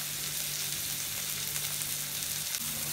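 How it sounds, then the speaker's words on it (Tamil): Tomatoes sautéing in a pan for a Chettinad crab masala, giving a steady, continuous sizzle and frying hiss throughout, with a faint constant hum underneath and no voices. "அது டொமேட்டோ நல்லா வதங்கணும்."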